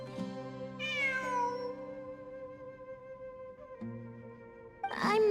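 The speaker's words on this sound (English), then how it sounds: "It really is a cat." A cat meows twice in Genshin Impact, once near the start with a drawn-out falling cry and again at the end, heard over a sustained layered musical drone.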